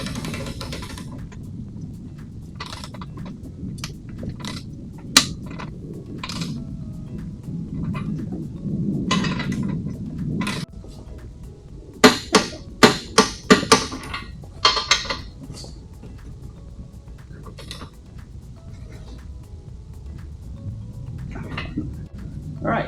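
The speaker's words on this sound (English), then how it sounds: "Here is torque wrench. We have set to 70. And what I'm gonna do is I'm just gonna go ahead and tighten it in." A torque wrench tightens bolts on a ladder and tire carrier for a Mercedes Sprinter van, giving a series of sharp metallic clicks and clanks, clustered mid-stretch, amid rustling handling noise and faint workshop ambience.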